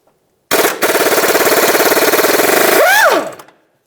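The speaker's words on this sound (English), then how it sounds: "Let's use our 24 millimeter socket to remove this bolt." An impact wrench with a 24 mm socket hammers out the crankshaft pulley bolt on a 2000-2005 Buick LeSabre, a loud, rapid rattling burst of about two and a half seconds that winds down with a falling whine.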